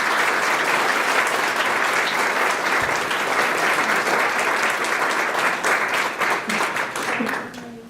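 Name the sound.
audience applause at graduation celebration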